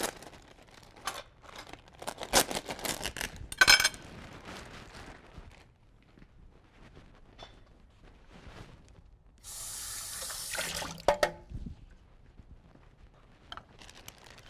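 Ocean Spray cranberries, non-organic, being rinsed under a running kitchen tap, with a steady burst of water hissing into the sink for about two seconds amid quieter handling and clatter, no talking.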